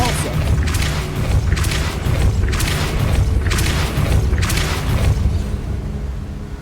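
Depulso force spells in the Hogwarts Legacy video game go off as a series of about five evenly spaced, heavy whooshing booms, loud over a dense rumbling game backdrop.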